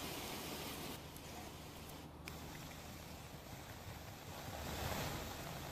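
Steady rain falls on roads across talukas of Mahisagar district in Gujarat, including Santrampur and Kadana, a continuous broadband wash of water that swells slightly near the end, with no voices.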